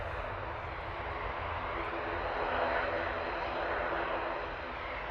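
Boeing 737 Max 8 on its takeoff roll at Manchester Airport, a sustained distant jet engine roar swelling slightly in the middle, steady and moderately faint, with no voices.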